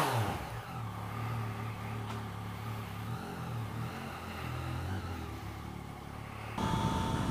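A Yamaha motorcycle fitted with new brakes rides off down a street, its engine droning steadily at mid pitch for several seconds before a brief rise in revs near the end.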